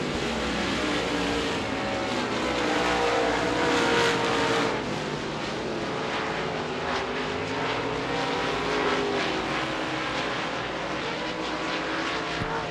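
Dirt late model race cars roar around the oval at Devil's Bowl Speedway, a dense sustained engine drone from several cars that swells and fades as they pass down the back straightaway.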